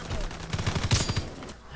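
Volkssturmgewehr rifle shooting in Call of Duty WW2, a quick run of rapid shots in the middle of the span, somewhat muffled and mixed with game ambience.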